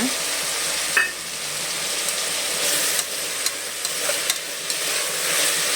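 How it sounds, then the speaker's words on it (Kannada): Vegetables and shelled peas fry in a pan for a tomato bath, giving a steady sizzle with occasional scraping stir strokes of a spoon, close and moderately loud, with no talking. "ಮೆತ್ತಗಾಗಲಿ, ಸಾಫ್ಟ್ ಆಗಲಿ, ಅಲ್ಲಿ ತನಕ ಚೆನ್ನಾಗಿ ಫ್ರೈ ಮಾಡ್ಕೊಳ್ಳೋಣ"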